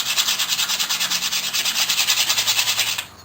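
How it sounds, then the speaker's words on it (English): Coarse sandpaper is rubbed by hand over a rusty old tool in fast, rhythmic back-and-forth strokes, a loud close scratchy rasp that stops abruptly after about three seconds. "I'm going to take some coarse sandpaper, and there's some big rust on here."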